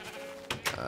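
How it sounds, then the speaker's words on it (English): Sheep on a Minecraft sheep farm bleat twice in quick succession, short and moderately loud over a steady background hum. "This is the public, I guess, sheep farm."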